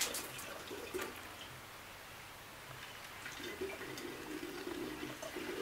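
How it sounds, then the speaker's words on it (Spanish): Water poured into an ancient clay vessel that resonates, a soft trickling and gurgling with hollow tones over steady background hiss. "Le falta un poquito de agua, lo vamos a poner de esta."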